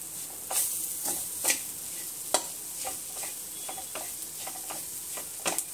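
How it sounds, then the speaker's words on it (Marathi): Ground masala paste roasts in a pan over a low flame, a continuous soft sizzle with repeated close scrapes of a spoon stirring it, no voices. "मंद गॅसवरती आपण छान असं हलवत राहायचं म्हणजे आपला मसाला छान असा भाजतो"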